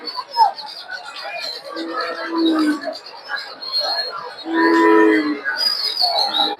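Water buffalo and cattle at a livestock market low and moo in long, drawn-out calls close by, one after another, with birds chirping and people talking in the background.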